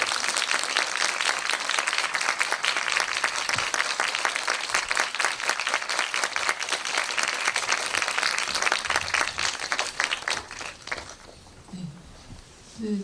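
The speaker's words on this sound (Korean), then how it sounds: "큰 박수 부탁드릴게요" A film screening audience claps loudly and steadily to welcome the director and cast onto the stage, a dense sustained applause for about ten seconds that thins out and fades near the end.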